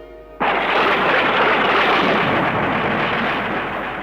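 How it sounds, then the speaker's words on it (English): A thunder clap used as a sound effect in a narrated story: a sudden, loud crack erupts after a short quiet lead-in, then rolls on as a sustained, rumbling roar that slowly fades, with no voice over it. "Then suddenly there came a clap of thunder, much louder than all the others."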